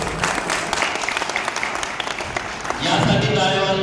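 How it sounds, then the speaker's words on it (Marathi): A crowd at a village welcome event for a water procession claps, first in scattered bursts, then in a denser swell of applause at the end, with a voice over it early on. "माननीय विखे पाटील साहेबांच्यासाठी जोरदार टाळ्या तुम्ही वाजवा."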